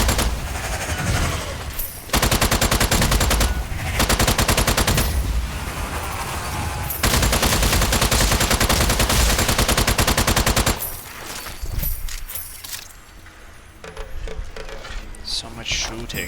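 Sustained rapid gunfire from the video game Strange Brigade, loud bursts of automatic shooting that pause briefly and resume, thinning out near the end.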